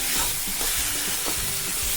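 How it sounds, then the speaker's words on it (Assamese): Sun-dried taro leaves frying in a pan, a steady close hiss and sizzle with faint stirring scrapes as the water cooks off. "কচু শাকখিনি এতিয়া ভাজি অকণমান হৈ গৈছে, ভাজি হৈ গ'ল"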